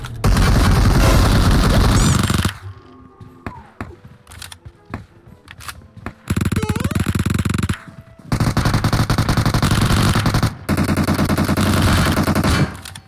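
Automatic gunfire in the mobile battle royale game PUBG Mobile crackles in dense loud bursts, broken by quieter gaps with scattered single shots and game sounds.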